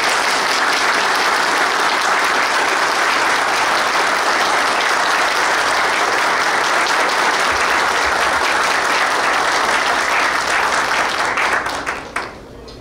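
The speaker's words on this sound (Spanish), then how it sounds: "para quien pido un fuerte aplauso" Loud, sustained audience applause at a political party gathering, a dense roar of many hands clapping that holds steady and then tapers off at the very end.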